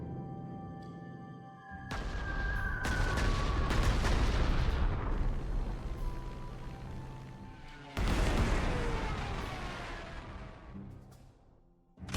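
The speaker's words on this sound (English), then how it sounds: "So I get one of the bombers to come up and bomb you." Heavy bombing in the war strategy game Panzer Corps 2, set on the Volga, as bombers strike an entrenched unit: a sustained roar of booming blasts and rumbling impacts, with a second loud burst of explosions partway through, no talk.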